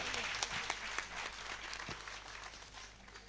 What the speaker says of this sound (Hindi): तालियों की आवाज और जोर से सुनाई देनी चाहिए।